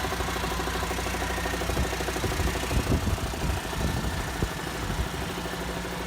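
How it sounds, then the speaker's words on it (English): A MAN D2676 inline six-cylinder common rail diesel engine runs steadily at a loud, close idle, giving a continuous knocking rumble with mechanical ticking throughout. "When the engine starts, the sound is unmistakably diesel"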